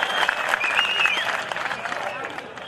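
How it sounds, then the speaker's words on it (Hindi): A crowd at a Hindi poetry recital claps in a dense, continuous burst that holds steady throughout, with a voice mixed into the applause. "जोरदार तालियां होनी चाहिए।"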